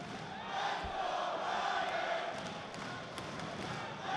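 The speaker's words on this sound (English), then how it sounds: "You can hear the crowd behind Yapsam saying" Spectators at a caged MMA fight crowd-noise behind fighter Yapsam, a faint, distant wash of chanting and cheering that stays steady with a brief thump partway through and scattered sharp sounds.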